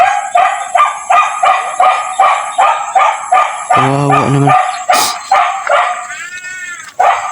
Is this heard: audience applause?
no